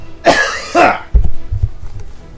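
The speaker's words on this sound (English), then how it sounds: "Oh god, I got a cough." Two harsh coughs close up from a man, followed by a few softer throat-clearing sounds and breathy noises.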